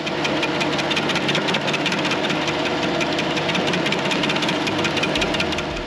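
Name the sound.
Kubota SCL1000 stand-on loader with stump grinder engine running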